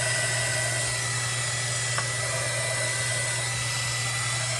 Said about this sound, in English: And then I'm going to use a heat gun just to shrink it down.